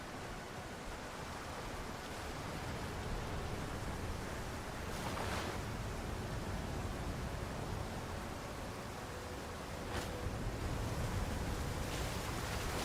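A waterfall in the video game Avowed gives off a constant, dense rushing roar, even and unbroken throughout, with no voices over it.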